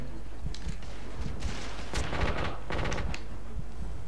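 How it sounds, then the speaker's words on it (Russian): Gunfire and explosions in The Order 1886 sound as dense bursts of rapid shots and booms that come in clusters over steady background noise, loud and close, with no clear speech. "Это из чего он так выстрелил, я так особо и не понял. что там внезапно как будто, как будто граната взорвалась."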